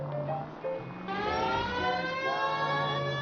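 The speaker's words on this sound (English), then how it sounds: "We've got a siren for a reason," Police car siren from the game L.A. Noire, a steady loud wailing tone with rising harmonic sweeps, continuous throughout.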